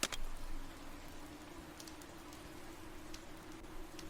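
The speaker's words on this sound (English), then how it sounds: "Nice rain. Love it." Rain in the fishing video game Fishing Shop Simulator, a faint, steady patter of drops with occasional sharper ticks and no talking.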